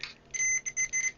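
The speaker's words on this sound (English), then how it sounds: "Do we still have beep?" A multimeter's continuity test gives a high electronic beep in short bursts, a few cut-off beeps in quick succession, clear and close with no talking.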